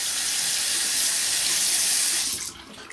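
Bathroom sink faucet running to rinse a razor during a wet shave, a steady hissing water stream close by that cuts off near the end.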